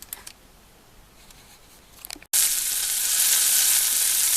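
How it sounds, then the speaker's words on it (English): Steak hits hot beef dripping in a frying pan, breaking into a loud, steady sizzle and crackle that continues without pause after a quiet moment. "There's my steak in my frying pan with my dripping heated up."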